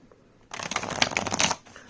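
A tarot card deck being shuffled by hand, a brisk papery riffle of cards lasting about a second, close and clear with no talking.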